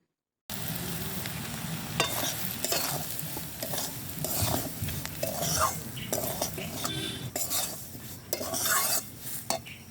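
Fried semolina with salt stirred in a pan, repeated scraping and clinking of a spoon against metal over a soft sizzle, close and uneven in rhythm, without speech.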